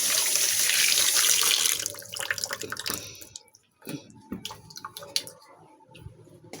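Food is rinsed by hand under a running kitchen tap in a sink: a steady, fairly loud gush of water for about two seconds, then scattered splashes, drips and wet handling noises with quiet gaps.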